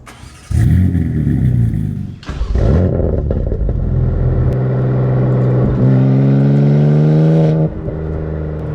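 A modern BMW M3 with an aftermarket exhaust revs hard and loud up close, dropping briefly between gears before climbing into a sustained rising exhaust roar.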